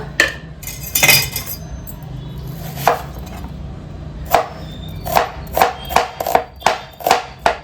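A knife slices half a kilogram of onions on a board, giving sharp, close, irregular chops that quicken into a steady run of about a dozen strokes near the end.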